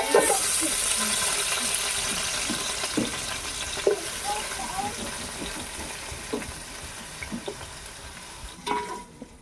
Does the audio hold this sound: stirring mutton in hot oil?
yes